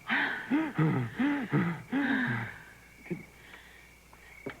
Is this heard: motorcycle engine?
no